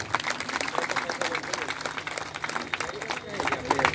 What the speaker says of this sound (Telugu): మీకు మీరుగా ఒకసారి గట్టిగా చప్పట్లు కొట్టుకోండి